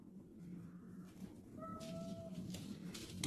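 A cat gives a single soft, drawn-out meow partway through, fairly faint over a quiet indoor background.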